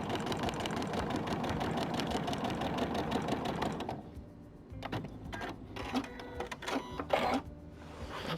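A sewing machine stitches a foundation-pieced quilt block, running steadily and close for about four seconds before stopping, followed by a few short clicks and handling noises.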